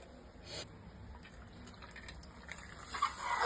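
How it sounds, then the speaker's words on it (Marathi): Water drains off soaked soybeans in a home kitchen, a steady soft trickle and splash that grows slightly louder toward the end, with no talking. "सोयाबीन भिजले. हे आता आपण पाणी काढून घेऊया."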